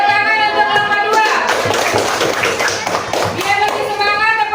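Classroom group clapping a rhythmic cheer, many hands striking together in a steady patterned beat that fills the space throughout, with children's voices mixed in.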